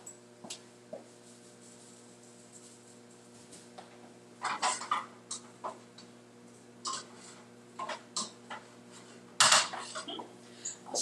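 Cauliflower stirred in a pot for shepherd's pie: scattered clinks and scrapes of a utensil against the pot, quiet and close, arriving in irregular bursts over a faint steady hum.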